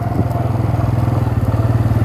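A motorcycle rides along a rough, green off-road track, its engine thrumming loudly with a steady pulsing rhythm close by, the bike jolting over uneven ground.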